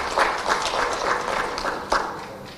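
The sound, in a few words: applause for the Deputy Secretary General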